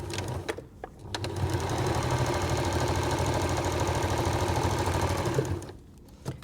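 A sewing machine runs steadily, stitching cotton patchwork fabric for a flower quilt block, with a sustained mechanical whir of rapid needle strokes lasting several seconds, starting and stopping with short gaps, no talking.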